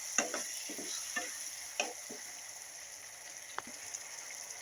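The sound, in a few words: tamarind juice added to girmit masala, stirring and simmering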